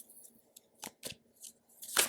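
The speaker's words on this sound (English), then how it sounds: "I don't know if you guys heard the shuffling. The microphone's actually really close to that" A Moonology tarot card deck shuffled right next to the microphone gives a few sharp, papery riffling bursts separated by short quiet gaps, ending in a louder flurry.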